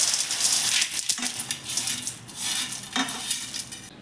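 Fried field beans, peanuts and chickpeas tipped into a metal pan, a close, rattling clatter of small hard pieces hitting the pan in bursts over a few seconds, with no talk.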